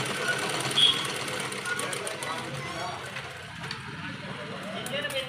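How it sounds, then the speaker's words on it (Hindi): A sewing machine stitches fabric for a baby's princess gown, giving a fast, steady mechanical whir that runs throughout, close by, with a voice talking over it. "हम यहाँ पर थोड़ा अंदर की साइड से हम लेकर कपड़ा सिलाई डाल रहे हैं"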